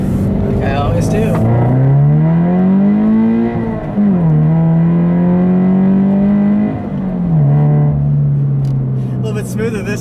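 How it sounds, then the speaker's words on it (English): A Subaru BRZ accelerating at low revs, a loud close engine drone rising in pitch through gears, dipping at each shift around four and seven seconds, then climbing again. "I'll leave you with a nice low acceleration here, like I always do."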